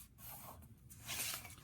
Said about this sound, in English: you're going to hear it's going to rip the paper